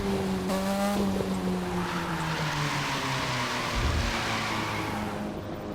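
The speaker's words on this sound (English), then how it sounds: "Let off throttle, let the car slide." In The Crew 2 video game, a car drifts with its engine droning and shifting pitch as the tires slide, one steady loud, continuous roar.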